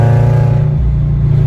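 A Subaru BRZ with an aftermarket valved exhaust, valves open, idles with a deep, loud, steady rumble close by, briefly shifting pitch partway through.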